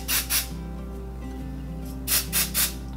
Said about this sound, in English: we're going to start with my Living Proof Full Volume Blast Spray. And what I do with this is just kind of spray it towards the top of the hair,